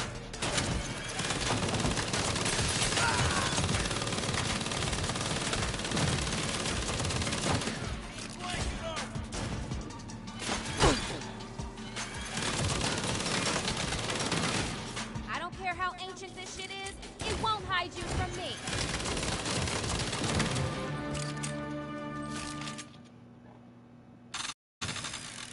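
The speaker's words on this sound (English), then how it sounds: "It's not my first time shooting up a place with a minigun" Minigun fire from the Saints Row video game pours out in a dense, nearly unbroken roar for most of the stretch, loud and close, with brief drops and a near-silent gap near the end.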